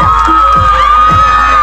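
Crowd at a large outdoor stage event in Mechinagar cheering and shouting for a performer, a loud roaring mass of voices close up, amplified and steady over the short moment.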